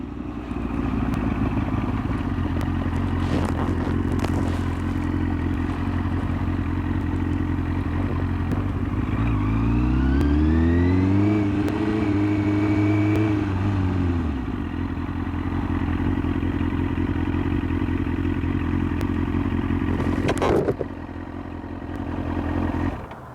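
A Kawasaki ZX6R motorcycle idles steadily close by while it is turned around. The engine rises in a brief rev midway, settles back, and a clunk sounds near the end.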